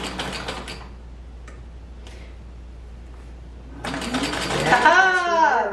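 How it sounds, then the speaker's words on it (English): A sewing machine stitches fabric for frilly Edwardian combinations undergarments, a short mechanical burst starting near and fairly loud at the end after a quiet stretch, with a voice talking over it. "Sew a little bit and then push that and see what happens."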